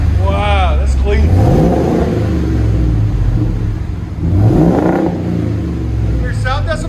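Loud, continuous exhaust rumble from a Ford F-350's 7.3L gasoline V8 as the truck is revved twice in long rising pulls, with short bits of talk between the revs.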